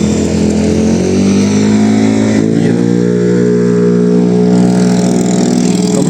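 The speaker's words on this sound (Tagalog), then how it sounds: "Kamusta naman yung microphone kahit na maingay yung mga sasakyan?" Loud, close roadside traffic in Los Baños with cars and motorcycles passing, a continuous droning engine roar with revving swells that never lets up, recorded outdoors on a phone.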